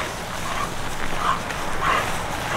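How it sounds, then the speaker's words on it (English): A dog whimpers and gives short yips during bite suit training, a few brief cries close by over a steady noisy background. "You got an awesome dog."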